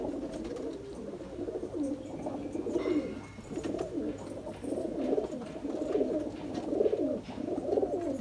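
Rampuri and Sialkoti pigeons offered for sale coo in repeated soft, throaty rolling phrases at a moderate distance, several birds overlapping in a steady rhythm with no voices.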